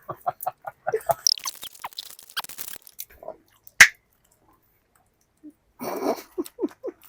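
Wet mouth clicks and bubble gum chewing noises come in uneven bursts, with a single sharp gum pop standing out before a quiet gap and more smacking.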